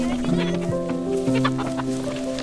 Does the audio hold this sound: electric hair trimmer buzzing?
no